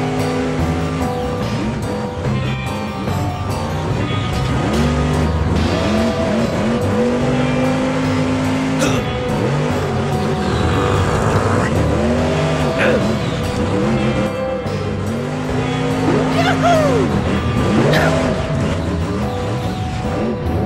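Grave Digger, a monster truck of about 1,000 horsepower, roars and revs hard while climbing a hill, its engine surging up and down in pitch repeatedly, loud and close throughout.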